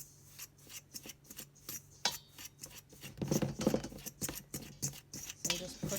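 A fork presses and turns through apple-pie pastry dough in a bowl, giving repeated soft scraping and rubbing strokes in an uneven rhythm, close and fairly quiet, growing busier partway through.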